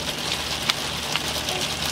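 Rain falling steadily outdoors, a dense close hiss with a couple of sharper drop taps and no voices.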